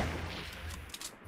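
Gunfire in a Fortnite Battle Royale match, coming as a dense, distant-sounding rattle of shots layered over a constant low rumble, with a couple of sharper cracks near the end.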